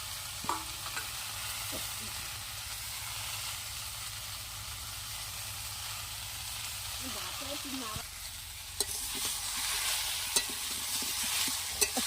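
Ginger and cumin paste sizzles steadily in hot oil with fresh garden vegetables, broken by irregular scraping stirs that grow busier and louder toward the end, close and alone with no talk.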